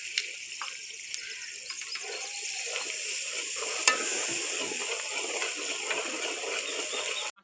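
Masala fries in a pan with a continuous bright sizzle and hiss, punctuated by a few sharp scrapes and clinks of stirring, close and steady with no talk.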